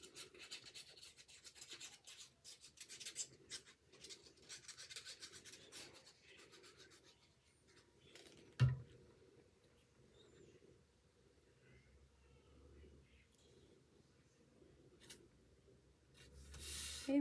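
Paper being glued and rubbed down onto an album page, a close, soft continuous rasping and rubbing for about eight seconds, then a sharp tap followed by quieter faint rustles.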